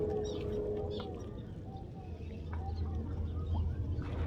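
Birds gathered beneath a bridge in Dubai chirp and coo in scattered short calls over a steady low rumble, with faint voices in the background.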